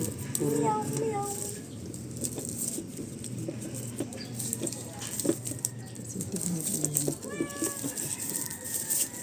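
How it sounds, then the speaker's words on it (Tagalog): A cat meows several times in short, tonal calls amid a busy room with voices talking and bird-like chirps in the background. "Meow, meow."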